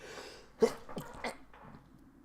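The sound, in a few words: sneeze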